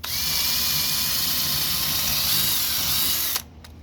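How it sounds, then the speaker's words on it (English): A power drill bores a hole through a BIC Open Skiff sailboat hull, a loud steady whine holding for over three seconds before stopping abruptly, followed by a quieter tail. "So I'm going to first drill the hole out."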